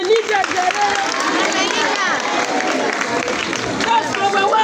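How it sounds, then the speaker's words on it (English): Schoolchildren clap for themselves in a loud, busy burst, with many small hands patting together under children's chatter and crowd noise throughout. "Clap for yourself."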